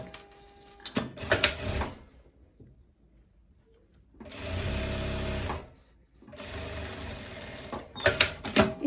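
A sewing machine stitches spandex trousers in a few separate runs: a short burst, a pause, then two longer steady whirring passes and a final quick stutter, close and clear.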